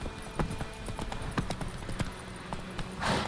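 Roach, the horse in The Witcher 3, trots with clear, evenly spaced hoof clops on the ground, ending in a short rush of noise.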